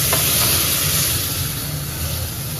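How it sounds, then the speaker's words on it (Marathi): Hot milk is poured into vermicelli in a pan, giving a steady loud hissing, sizzling wash of sound that continues without pause, with no voices. "गरम केलेलं दूध शेवाळ्यामध्ये टाकलं."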